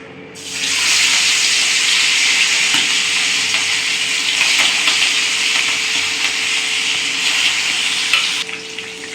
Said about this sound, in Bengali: কড়াইতে তেল গরম হয়ে গেছে, মাছগুলোকে প্রথমে ভেজে নিই।